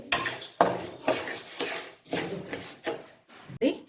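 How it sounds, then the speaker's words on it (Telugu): Flaxseeds roast in a pan while a spoon stirs them, giving repeated close scraping and clinking strokes in an uneven rhythm with brief pauses. "మాడిపోకుండా ఇట్లా కలిదిప్పుకుంటా మనం ఉండాలి"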